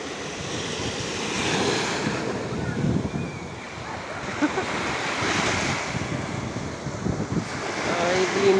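Sea waves break and wash onto the shore, a steady broadband surge with gusty wind buffeting the microphone throughout.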